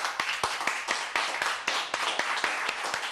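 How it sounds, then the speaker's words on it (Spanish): An audience applauds a female tango orchestra, a dense wash of many hands clapping steadily and fairly close, with sharper individual claps popping out of the crowd throughout. "Recibimos a todas estas mujeres legendarias con un aplauso."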